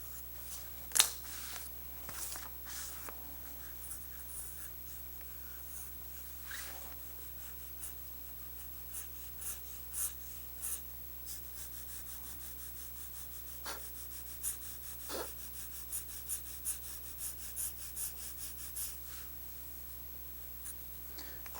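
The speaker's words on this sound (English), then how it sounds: "Let's do a little quick drawing here." Quick pencil strokes scratching across paper, a steady run of soft rubbing and tapping marks, close and quiet with faint room hum beneath and no talking.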